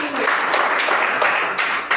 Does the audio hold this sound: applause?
yes